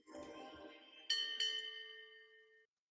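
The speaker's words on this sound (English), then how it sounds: "Did you hear that ding dang? Yeah, it's nice when you get a reward. Yeah, little C bell." A crypto app's reward notification, a bright bell-like ding struck twice in quick succession with a ringing tail that fades out, heard after faint muffled talk.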